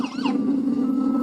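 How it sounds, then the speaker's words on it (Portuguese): A SAMU ambulance siren wails through a Brazilian street, with a brief rising and falling sweep at the start and then a loud, steady tone that holds close by. "Olha o SAMU. Mais uma ambulância aí."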